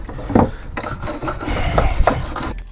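Close, steady scrubbing of a BMW M50 rocker cover, a rough brush rasping back and forth in uneven strokes with a few louder scrapes, running alone without talk.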